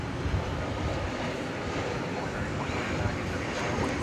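Airplane engine noise at DFW Airport heard from a distance, a steady broad roar that holds evenly for the whole stretch with no clear peaks or breaks.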